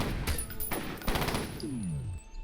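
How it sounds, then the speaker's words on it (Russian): A rapid series of sharp gunshots from an automatic sniper rifle in the shooter F.E.A.R., several punchy cracks in quick succession followed by a falling whine and fading echoes, with no talk over it. "Это не просто снайперская винтовка, снайперский автомат."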